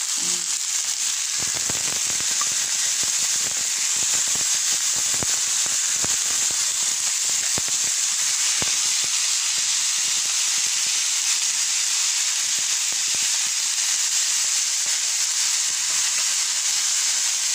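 Tomatoes sizzle in a hot pan while pork is being braised with hoisin sauce, a loud, steady hiss with scattered pops and crackles that hold unbroken throughout, with no talking.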